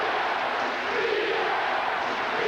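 Dense basketball arena crowd noise from a 1986 Indiana vs Michigan college game, a steady roar of cheering voices filling the hall without letup.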